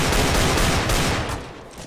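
Rapid, continuous gunfire in the video game CS:GO roars as a dense, loud, unbroken burst that eases slightly at the end; no one speaks.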